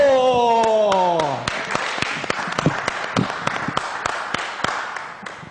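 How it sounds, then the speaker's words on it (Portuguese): Studio audience on a Brazilian afternoon talk show applauds a guest, scattered hand claps continuing steadily after a musical sting fades out at the start. "Vamos aplaudir essa fera!"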